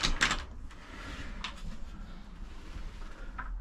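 A cupboard door inside a Bailey Adamo 69-4 caravan is moved, giving a bright knock and rattle at the start, then a softer clunk and a faint scrape later, close and quiet against a low background rumble.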